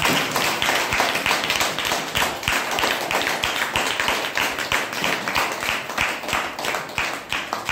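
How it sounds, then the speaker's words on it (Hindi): Steady, dense audience clapping at close range, a loud continuous wash of many hands striking for several seconds with no talk over it. "हम चाहते हैं फिर से एक जोरदार ताली।"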